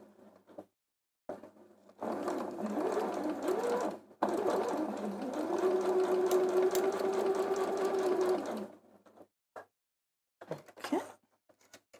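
A sewing machine runs under foot-pedal control, stitching a pinned quilt piece in two close, steady bursts of fast mechanical whirring separated by a brief stop, with quiet handling noises before and after.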